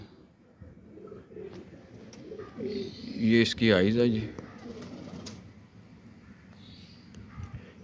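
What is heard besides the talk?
pigeons cooing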